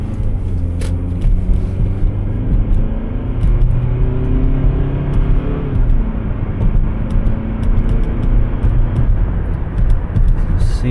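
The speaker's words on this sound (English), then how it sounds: "Let's go rip it down the road, see how she drives." A 2007 Toyota Camry from Wisconsin cruising down the road, with a steady, loud engine and road rumble from inside the cabin and no pauses throughout.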